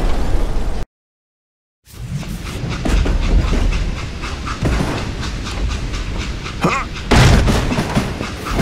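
A train in the video game Call of Juarez: Gunslinger, its express car being uncoupled, gives a steady rolling rumble with rail clatter and hissing. The sound cuts out briefly near the start, then continues close and loud to the end.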